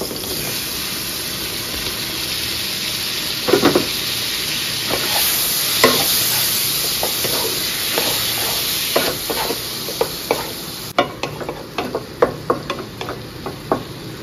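Tomatoes and two green chilies fry in a pan with turmeric, salt and mustard seeds, a steady close sizzle broken by scraping stirs that come faster and sharper toward the end.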